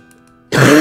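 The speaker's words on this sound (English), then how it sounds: "I am coughing." A single close, loud cough or throat-clearing bursts out after a quiet half-second, from someone whose nose has been stuffy for months.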